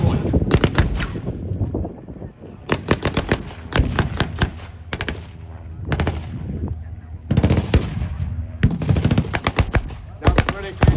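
Gunfire at a tank battle reenactment, rapid bursts of machine-gun fire in loud clattering volleys separated by short pauses, close to the listener and outdoors.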